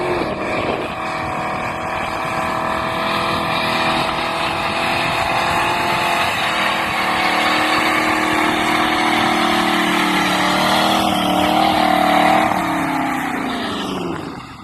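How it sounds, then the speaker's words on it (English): A Holden 253 V8 with a Trimatic automatic runs in a Torana, a steady loud engine drone throughout that swells slightly toward the end before easing off, with no talk. "She's packing a healthy little 253 Holden V8."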